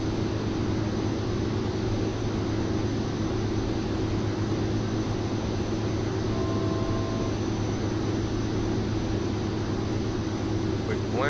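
Steady drone of a light aircraft engine in the X-Plane 11 flight simulator, flying a traffic pattern at San Luis Obispo with power reduced for descent; a continuous, even hum fills the whole stretch with no talk.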